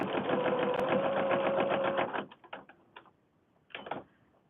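A sewing machine stitches fabric close to the edge while a fabric book is made, running in a fast steady mechanical chatter for about two seconds, then stopping, followed by a few faint clicks and a brief rustle.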